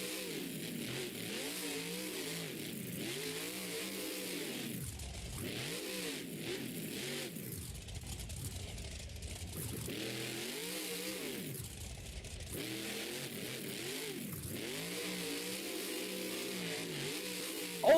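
A monster truck at a Monster Jam arena event in Nashville revs again and again, its engine note rising and falling in repeated surges, heard at a distance and fairly faint through the arena's ambient noise.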